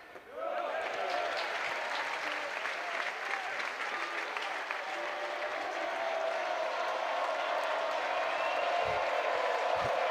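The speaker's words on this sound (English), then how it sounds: "They're yelling, trying to get into it." Ballpark crowd at a Georgia Tech versus Ole Miss college baseball game, steady dense roar of fans yelling and clapping from the stands, continuous and loud throughout with a few low thumps near the end.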